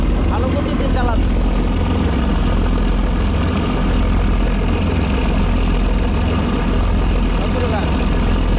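The passenger launch Othoi 3 powers away from Sadarghat in Dhaka at speed, its engine a loud, steady low drone that runs the whole time with a voice speaking over it.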